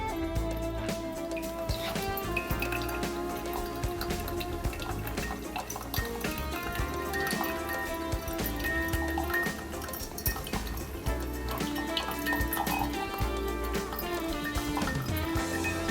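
Running water pours and splashes while a coffee filter is rinsed with light glassy clinks and drips, steady and close throughout.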